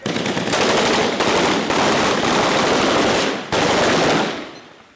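Loud close-range automatic gunfire from a Marines battle with insurgents in Ramadi, several sustained machine-gun bursts of rapid cracking shots separated by brief pauses, ending in a fading tail.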